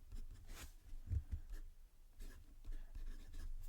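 Fountain pen with a fine gold nib writing on paper; soft, scratchy strokes with light taps, close and quiet, without talk.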